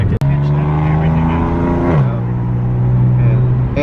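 BMW M3 with a Vivid Racing full exhaust, mid pipe and switchable muffler, revving loudly up through a gear, then shifting and pulling again, heard up close from inside the car.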